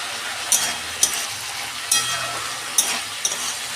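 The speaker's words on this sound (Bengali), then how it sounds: "এই যে সবজি আমার ভাজা হয়ে গেছে" Vegetables sizzle in a pan as they fry, a continuous hiss punctuated by several crisp clinks of a spatula against the metal, heard close with no voices.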